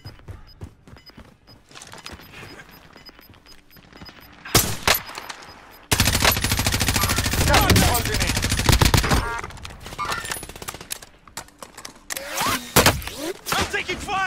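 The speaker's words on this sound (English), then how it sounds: "I'm taking fire!" Gunfire rattles through a shooter video game in rapid bursts and sharp single shots, loud and close, with a sustained automatic volley in the middle and scattered shots later. Players' voices and background game sound mix with the shooting.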